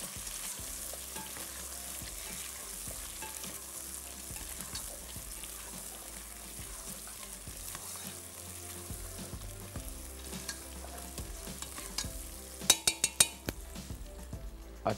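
Onions and chicken frying in a pot, a steady, close, dense sizzle with intermittent scraping of stirring, then a few sharp knocks near the end; no talk.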